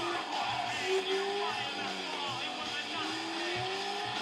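Car speeding along an avenue in GTA 5, engine droning with rising and falling revs and tire squeal, steady and moderately loud, with a voice talking over it.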